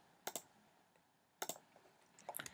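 Sharp, close computer clicks on a register button, two distinct double clicks followed by a quick cluster of lighter taps, crisp and isolated in a quiet room.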